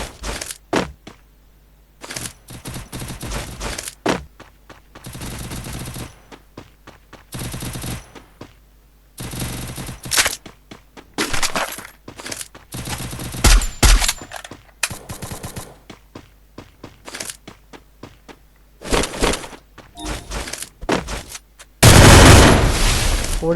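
Gunfire in a video game: bursts of rapid automatic shots and single cracks come in irregular clusters separated by short quiet gaps, loud and close, with a heavier, sustained volley at the end.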